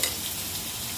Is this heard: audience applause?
no